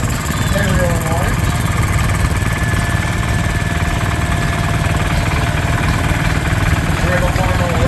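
A 1940 John Deere B tractor engine runs at a steam power show, a loud, steady mechanical drone with a rapid, even pulse, close by and continuous, with voices faintly under it.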